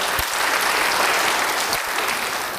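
A church congregation breaks into loud, dense applause during a sermon, many hands clapping together at a constant level for a few seconds.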